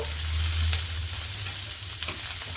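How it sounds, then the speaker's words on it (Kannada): Sliced onions and a handful of cashews frying together in oil in a pan, a steady close sizzle with occasional stirring scrapes, no voices. "ಈಗ ಈರುಳ್ಳಿ ಜೊತೆ ನಾನು ಒಂದು ಮುಷ್ಟಿಯಷ್ಟು ಗೋಡಂಬಿ ತಗೊಂಡಿದ್ದೀನಿ. ಅದನ್ನು ಇದ್ರ ಜೊತೆನೇ ಸೇರಿಸ್ಕೊಂಡು ಫ್ರೈ ಮಾಡ್ಕೋಬೇಕು"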